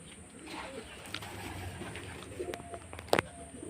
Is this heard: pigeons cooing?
yes